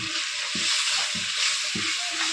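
Crab fries in spice paste with a steady loud hiss and sizzle, while a spatula stirs in regular strokes about every half second, close up and without voices.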